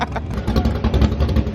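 A race car engine, a rooster-nicknamed machine, revs hard and rolls through its gears, loud and close with a rough, throbbing low rumble that surges in repeated pulses across the moment.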